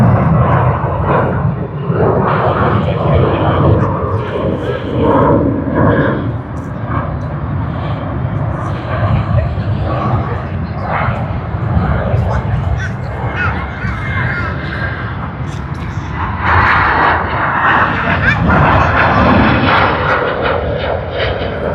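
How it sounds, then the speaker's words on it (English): A Garuda Indonesia Boeing 777 departs Sydney for Denpasar with a loud, rough, sustained engine roar that swells and dips in waves, occasional crackling bursts, and a voice speaking now and then. "Sydney to Denpasar, Boeing 777."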